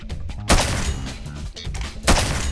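A P320 pistol fires in a Minecraft weapons mod, two loud, sharp single shots about one and a half seconds apart, each with a short decaying tail over faint game ambience.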